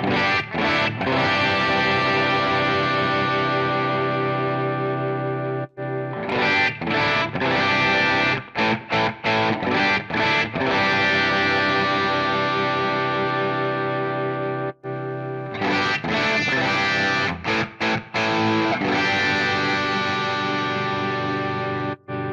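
A distorted electric guitar plays chords and riffs through an amp simulator with different speaker cabinets, including a 1x12, loud and close, with brief gaps between phrases as the tone shifts.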